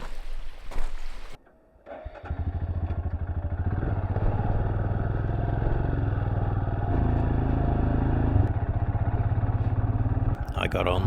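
A solo motorbike rides on a road alongside a lake on New Zealand's West Coast. A short rustle and a pause come before the engine starts up and drones loudly and steadily close by, with a brief clatter near the end.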